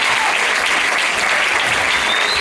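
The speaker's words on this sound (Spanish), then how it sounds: "Un fuerte aplauso para Mara, que llega también al escenario." Loud, dense applause fills an audience hall at the 2014 Argentina and South America Pole Championship, steady and close for the whole stretch with no break.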